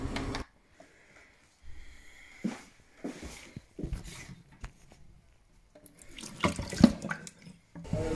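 Water from a gas boiler's condensate trap is emptied into a sink during an annual service, giving a few bursts of splashing and pouring with short pauses between them. The sound is close by, with no talk over it.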